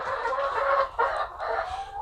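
Chickens cluck steadily inside a coop, several birds overlapping in continuous close, fairly loud calls with a brief lull near the middle.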